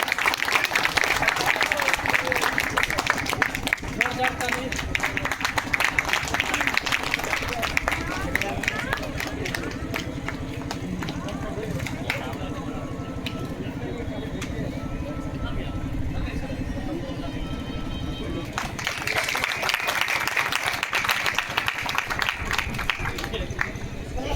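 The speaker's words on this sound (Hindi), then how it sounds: "तालियों के साथ सम्मान।" Applause from an audience at a 102nd birth anniversary program for Karpoori Thakur, dense clapping that swells loudly at the start and again near the end, with a busy crowd and voices in between.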